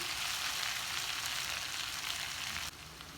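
Bitter gourd, potato and onion fry in a pan while being stirred, giving a loud, dense, continuous sizzle with scraping texture close up, easing slightly near the end; no one speaks.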